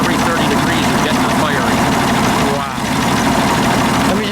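A 1920 Packard Twin Six runabout's 90-horsepower 12-cylinder engine idles as a steady, smooth rumble close by, while people talk over it.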